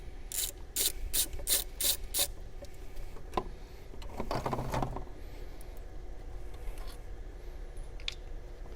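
A ratchet wrench clicks in quick bursts near the engine of a 2013 VW Jetta 2.5L while a bolt is taken out, followed by scraping and rubbing of metal parts, with no talking.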